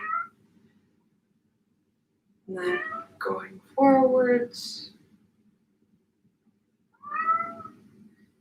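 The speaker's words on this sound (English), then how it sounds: "If you hear my cat, I don't know if you can. They're not used to being closed out of the room" A pet cat shut out of a room meows repeatedly behind a closed door, a few fairly clear calls that come in a cluster and then once more, with a person speaking calmly.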